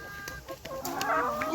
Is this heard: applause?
no